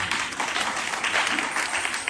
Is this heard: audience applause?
yes